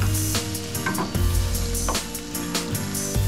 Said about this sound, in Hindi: अब हम चिकन को भी इसके साथ ही फ्राई करेंगे।